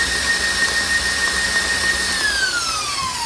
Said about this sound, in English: my KitchenAid mixer does pretty well